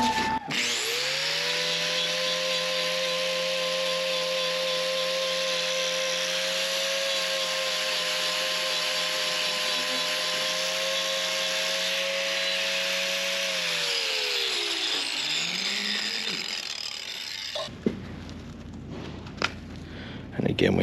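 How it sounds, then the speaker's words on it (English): A power grinder notches a horse's hard hoof, whining loud and steady for about fourteen seconds with a drifting pitch, then winding down as it stops. "I'm going to take my grinder and notch these spots out a little bit"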